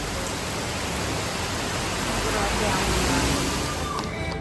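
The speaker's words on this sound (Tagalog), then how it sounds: "Sa maulan na araw mga friends. Ayan, napakalakas ang ulan." Heavy rain pours down on a rainy day off, a dense, constant roaring hiss that fills the scene evenly and cuts off abruptly at the very end.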